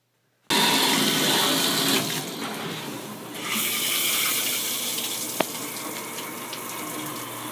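Water sprays and hisses steadily from a shower, starting abruptly and running continuously with slight changes in flow and a brief knock.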